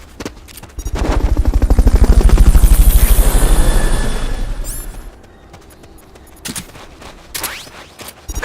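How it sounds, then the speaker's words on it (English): Fulton recovery helicopter in Metal Gear Solid Peace Walker, a loud rotor drone swelling over several seconds with fast chopping pulses, then fading, followed by sharp scattered impacts and bursts near the end. "Fulton recovery subject confirmed onboard helicopter."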